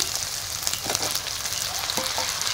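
Chopped tomatoes hit a pan of frying ginger-garlic paste with a steady, close, bright sizzle and a few stirring bumps, with no talking throughout.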